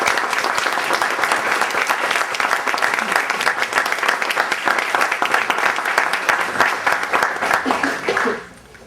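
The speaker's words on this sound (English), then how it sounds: "Paul and Pat. Please give them a round of applause." A dinner audience at the 2005 Illinois Disciples Foundation dinner gives a sustained round of applause for the speakers, Paul and Pat: dense, steady clapping from many hands for about eight seconds before it quickly dies away.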